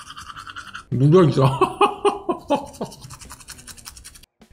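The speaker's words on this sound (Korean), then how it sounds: "칫솔이 들어가 있어요." A toothbrush from a 2022 Danish military ration pack scrubs back and forth in close, rhythmic, raspy strokes. A brief spoken remark comes just before the brushing starts.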